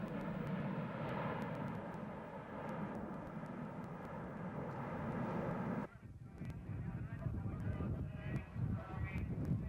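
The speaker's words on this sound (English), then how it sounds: "The Red Arrows arrive at Leeming from their display at Valley" Red Arrows display team jets arrive at the RAF Leeming airshow with a broad, sustained engine roar that shifts abruptly partway through into a rougher, rumbling noise, while a commentator's voice talks over the sound.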